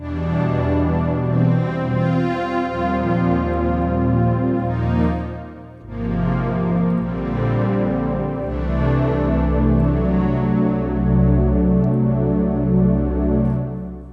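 A sustained string pad from a Kurzweil K2000 plays slow, full chords over a low bass line, shifting harmony midway and continuing smoothly throughout.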